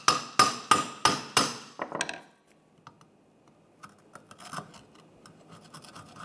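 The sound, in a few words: scraping converter sealing surface with a hammer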